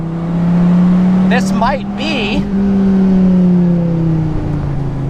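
Dodge Viper ACR with an 8.4-liter V10 on track, a deep, low-pitched engine drone holding steady close by, with a brief spoken remark partway through.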